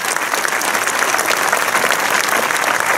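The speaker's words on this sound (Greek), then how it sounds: "Ένα λοιπόν πολύ ζεστό χειροκρότημα και για τους υπεύθυνους και για τα παιδιά σας" Warm, steady applause from an audience at a Cretan association's dance and lyra music event in Lavrio, dense clapping filling the whole stretch at an even level with no voices over it.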